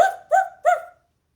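Three short, evenly spaced barking sounds, clear and close, with a tonal, voice-like quality suggesting a person imitating a dog.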